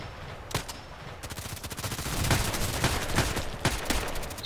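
Rapid gunfire from an HK417 rifle and other weapons in a shooter video game, with repeated sharp bursts and single cracks over a steady busy backdrop, fairly loud throughout.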